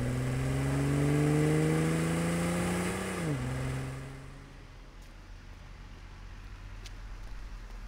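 A Mercedes-Benz W116 450 SEL 6.9 drives along the road, its engine note strong and droning as it nears, then dropping in pitch as it passes and fading into distant road noise.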